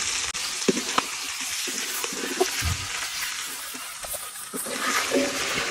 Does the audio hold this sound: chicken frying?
yes